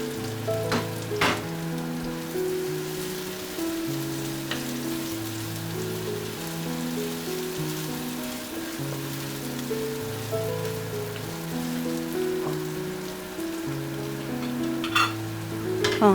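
Sliced garlic, ginger, scallion pieces, star anise and a little chili sizzling in hot oil in a wok for home-style tofu: a continuous close crackling hiss over soft background music.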